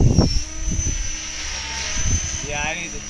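A radio-controlled model helicopter flies in heavy wind, its high steady rotor whine running throughout. Gusty wind buffets the microphone, and someone speaks in short bursts over it.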